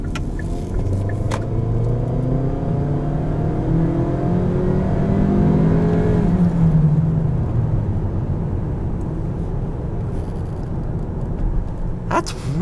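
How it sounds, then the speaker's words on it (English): A 2016 Kia Optima SX Turbo pulls hard at full throttle in normal drive, its engine note rising and falling through the gears from inside the cabin, loud and sustained, with a brief click near the end. "Do this first acceleration in normal drive."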